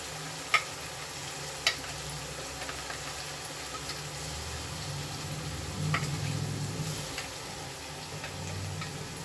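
Ground paste for methi soppu gojju frying in a pan over high flame, a steady soft sizzle with a few sharp ticks of a spoon against the pan, no talk.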